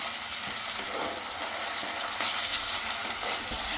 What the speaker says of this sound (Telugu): ఈ అల్లం వెల్లుల్లిపాయ పేస్ట్ కూడా పచ్చివాసన పోయే వరకు ఫ్రై చేసుకోవాలి